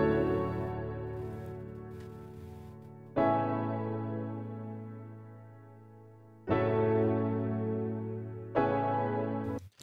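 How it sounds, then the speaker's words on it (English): Ableton Live's grand piano with Max Humanizer plays a future bass breakdown, four sustained chords struck at intervals, each ringing and slowly decaying, clear and alone. "this first piano sound, which is actually just Ableton Live's grand piano with Max Humanizer added to it"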